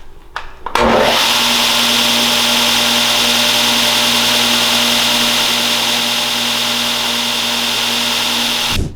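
A Diktator 2x72 belt sander starts with a sharp thump and settles into a loud, steady, high-pitched whine and rushing hum, running close and continuously without any talk.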